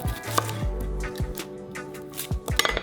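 A knife slices and peels white sweet onions on a cutting board, a few crisp chops and scraping cuts spaced irregularly, close and clear with no talking.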